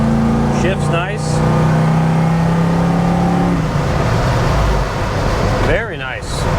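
A 1970 Chevy Nova with a fuel-injected LT1 engine accelerating, a loud, rising interior engine drone that builds and settles, with someone talking over it at the start and end.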